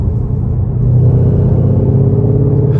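A 2020 Shelby GT500 engine idles in track mode with a deep, steady low rumble close by, swelling slightly in loudness partway through and holding a throbbing, even burble with no talk.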